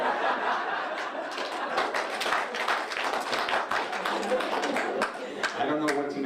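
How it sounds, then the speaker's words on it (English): Audience applause at an art gala and silent auction reading, dense, steady clapping mixed with chuckles and laughter that stays loud for the whole stretch. "I don't know what to make of that applause."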